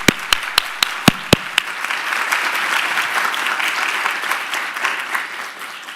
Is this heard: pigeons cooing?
no